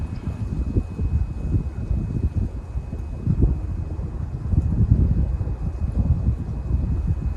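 Wind blows steadily outdoors, a low rumbling buffet against the microphone that stays fairly loud throughout.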